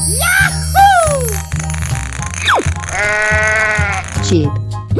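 Cartoonish sheep bleats from a 3D animal slide game ring out in several rising and falling calls, mixed with boing-like game effects and a steady rhythmic music beat, while a voice speaks over it.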